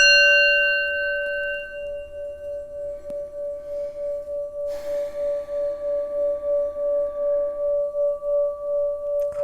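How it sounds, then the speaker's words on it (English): A sounding bell is struck once and rings out with a clear, sustained metallic tone that slowly decays across several seconds, heard alone and fairly close without any voices. "Spirit is calling me to ring the sounding bell, so I'm going to do that for everybody"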